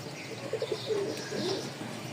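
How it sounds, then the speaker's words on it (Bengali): Rajshahi flying pigeons coo softly in a few short, low murmurs over a steady background hiss, faint and somewhat distant. "রাজশাহীর উড়াবাজির কবুতর, খুব কোয়ালিটি ভালো ভাই।"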